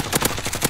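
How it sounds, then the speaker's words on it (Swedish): Rapid automatic gunfire in the Warzone video game crackles in quick, evenly spaced bursts, loud and continuous with no pause. "Var kommer de skotten ifrån? Är det uppifrån taket?"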